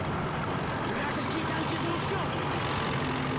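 A tank engine in the video game Call of Duty (2003) rumbles low and continuously at a steady level, with faint game voices over it.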